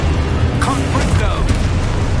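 In Hogwarts Legacy, a Confringo blasting spell detonates with a booming explosion and crackling burst over dense, continuous game combat noise.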